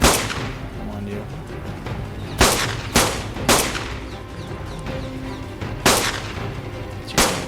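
Gunshots fired at a creature in the video game ARK: several sharp, loud reports spaced irregularly, some in quick pairs, over a steady background hum of game ambience.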